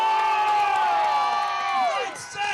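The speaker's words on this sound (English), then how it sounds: "Remember, the louder you cheer, the harder these knights will hit." A loud crowd cheers and whoops at a jousting show with charging knights, sustained shouting from many voices including children, dense and close throughout.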